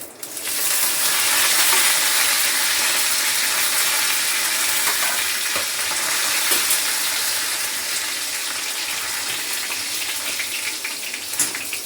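Mustard seeds, cumin, garlic and curry leaves tempering in hot oil in a home kitchen, a steady close sizzle with scattered crackles and pops running throughout, no talking.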